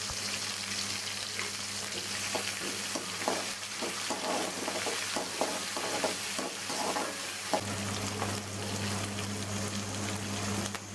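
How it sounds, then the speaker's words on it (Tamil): Onion, garlic and ginger sauté in a pan for coriander rice, giving a steady, close sizzle with intermittent stirring scrapes throughout and no voices. "வெங்காயம், பூண்டு, இஞ்சி எல்லாம் போட்டு நல்லா வதக்கலாம்"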